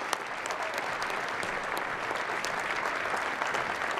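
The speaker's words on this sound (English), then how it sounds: "Can we get one more round of applause for the Bamford family?" Audience applause for the Bamford family at the Legacy of Hope 2018 event, a dense, steady wash of many hands clapping that fills the space evenly for the whole stretch, with no voices rising above it.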